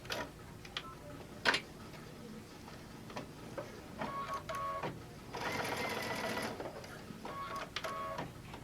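A sewing machine runs a tacking stitch on a fabric reading book pillow, sounding as a few short mechanical bursts with pauses between them, moderately close and fairly quiet.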